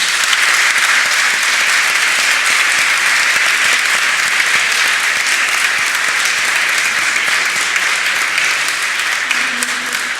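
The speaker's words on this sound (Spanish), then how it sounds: "Me parece un aplauso súper merecido a su gobernadora" A club audience gives long, loud applause for the deputy governor of the Bank of Spain, a thick, unbroken patter of many hands that holds steady throughout, with a faint voice near the close.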